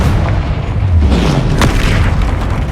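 A Confringo spell explodes in the Hogwarts Legacy video game: a loud, deep, rumbling boom that fills the whole clip with one sharp burst near the middle.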